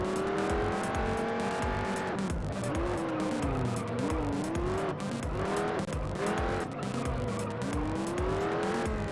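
A racing car in the video game Juiced scraping along a wall, engine droning loudly with repeated tire squeals and skids rising and falling across the whole stretch.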